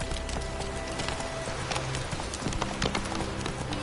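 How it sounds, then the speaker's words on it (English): Roach, the horse in the video game The Witcher 3, gallops with a rapid, rolling clatter of hoofbeats over a dense, steady game soundscape, loud and close throughout. "Run, Roach."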